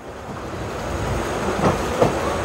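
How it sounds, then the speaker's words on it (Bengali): A Humsafar Express pulls away again at Ranaghat station, a low rumbling roll with faint clacks of wheels growing slightly louder, one sharper knock near the end, no voices. "এই যে ট্রেন কিন্তু আবার চলতে শুরু করলো"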